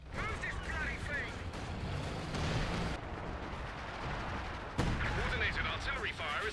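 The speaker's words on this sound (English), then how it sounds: "Coordinated artillery fire is on the way" Artillery barrages and gunfire from a Company of Heroes 2 battle, a dense continuous rumble of booms and blasts with a sharp hit near the end, mixed with in-game voice lines.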